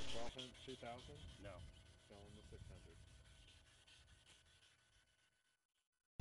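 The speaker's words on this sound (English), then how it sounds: "Now repeat the sanding process with the 2000 grit side of the sanding block." A headlight lens is rubbed with the 2000 grit side of a sanding block, giving a soft, steady scraping that fades out toward the end while someone talks over it.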